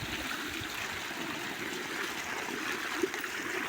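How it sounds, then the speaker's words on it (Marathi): Water rushes out of an irrigation pipe into a maize field in a steady, continuous gush, a broad splashing roar that never lets up. "पाणी भरायचं चालू, तर ते पाणी सगळीकडे फुटू राहिलं"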